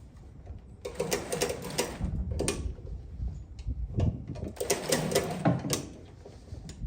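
A hand crank is turned to shift heavy tools and equipment without a forklift, producing close, rapid mechanical ratcheting and clicking in two separate bursts with brief pauses between them.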